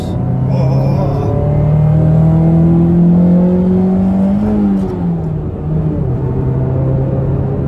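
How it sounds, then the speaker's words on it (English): Toyota Mk2 MR2 with 270,000 miles revving up as it accelerates gently, a loud nearby engine tone rising steadily in pitch, then easing off and settling, with no talk. "I'll go light on it, rev up, and I came up so slowly just to be careful"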